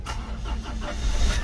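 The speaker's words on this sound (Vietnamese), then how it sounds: "Máy dầu thì để cái xoắn xoắn nó biến mất rồi, chúng ta để phát ăn ngay." A 2011 Ford Everest diesel engine cranks and catches, then settles into a low, rough rumble with rhythmic pulses. It is fairly close and heard alone, with no talking.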